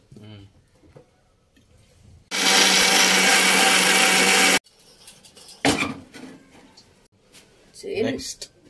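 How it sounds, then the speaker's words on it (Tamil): A mixer grinder grinding fish curry paste with a little water whirs loudly for about two seconds, a harsh steady grinding roar, with brief talk and kitchen clatter before and after. "கொஞ்சமா தண்ணி விட்டு நைஸா அரைச்சு எடுத்துருவோம்னா."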